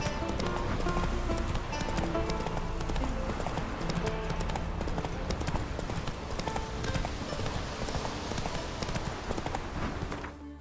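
Horse hooves gallop in a fast, continuous clip-clop rhythm in The Witcher 3: Wild Hunt, loud and steady throughout with dense game ambience underneath.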